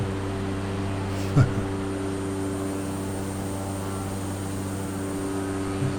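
Propeller plane engine in Microsoft Flight Simulator 2020 on an Iceland bush trip, a steady droning hum with strong low tonal bands that holds at an even level throughout, with one brief louder blip.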